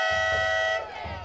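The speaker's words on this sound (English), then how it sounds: "There's our friend with the air horn." A loud, sustained air horn blast with a rich buzzing tone at a high school football game cuts off abruptly, leaving crowd murmur and a faint rumble behind it.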